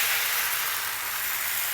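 Bánh xèo batter made with all-purpose flour sizzling in a hot, lightly oiled non-stick pan: a steady, close, loud hiss of frying that holds without a break, no talk.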